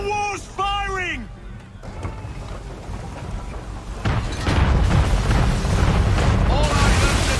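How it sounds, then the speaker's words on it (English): Man-of-war cannon fire at sea in the video game Assassin's Creed III, with deep booming blasts and rumbling impacts that build into a heavy, sustained roar after a shouted voice at the start. "Man of war's firing!"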